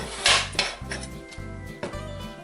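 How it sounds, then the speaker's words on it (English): A knife chopping down through a butternut squash on a cutting board gives repeated solid thuds and knocks, with a few sharper clatters near the start, close and fairly loud, and no talking. "To cut it, get your knife in, again you're holding the fat end"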